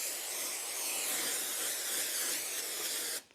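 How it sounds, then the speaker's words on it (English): A steady aerosol hiss of cooking spray, continuous for about three seconds before cutting off abruptly. "I better spray this pan"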